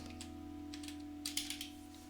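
Fingers typing on a computer keyboard, a few quiet scattered taps followed by a quick burst of keystrokes, faint beneath a steady electronic hum.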